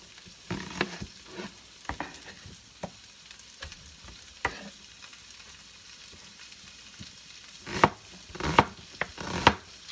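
Cabbage and sausage frying in a pan, a soft sizzle under repeated spatula scrapes and clacks that grow louder and busier toward the end.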